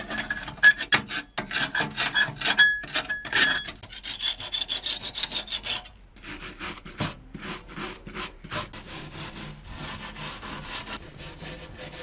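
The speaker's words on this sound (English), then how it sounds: "I'm just going to scrape that and tidy it up" Old paint and rust being scraped off a narrowboat's metal, with close, rough, rasping strokes in quick repeated bursts, a brief pause, then more steady scraping.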